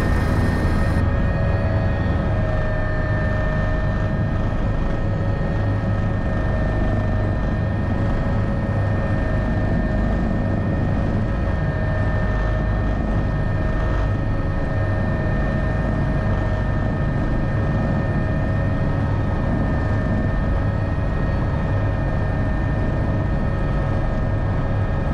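An aircraft lands in Guernsey at dusk in a strong gale, heard from inside as a loud, unbroken engine drone that stays steady throughout.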